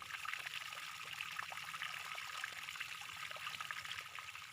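Water poured steadily into a glass of infused water holding mustard greens, cucumber and lime, a continuous close trickling stream with no pauses, no voices over it.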